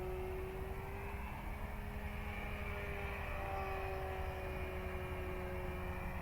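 An FMS Ranger 1220mm RC airplane drones at full throttle with a steady, high electric motor whine and a slowly shifting pitch as it flies nearby, with no voices.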